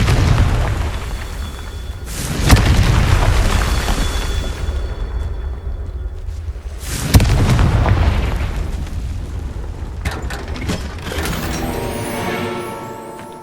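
Two heavy Confringo blasting-spell explosions go off in Hogwarts Legacy, each a sharp, loud boom with a long rumbling decay, followed by a cluster of smaller crackling bursts and magical effects near the end.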